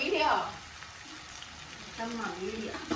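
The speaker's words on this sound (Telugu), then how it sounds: "కాకరకాయ ఫ్రై చేస్తున్నాము" Bitter gourd (kakarakaya) frying in a pan, a soft steady sizzle running throughout, close and quiet, with people talking over it at the start and end.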